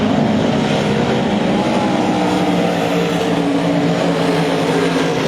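IMCA touring stock cars race around the track in a feature event, their engines making a continuous, steady roar of mixed motor noise at a distance, with no voices heard.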